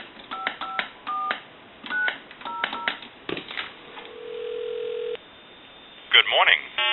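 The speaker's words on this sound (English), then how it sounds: "we'll call that time and temp number." An AT&T single-slot payphone dials a time-and-temperature number: a series of quick DTMF touch-tone beeps in small bursts, a steady tone after, then clicks and a call connecting, heard over a telephone line.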